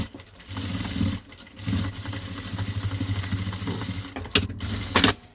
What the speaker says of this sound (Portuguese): agora passo outra costura para reforçar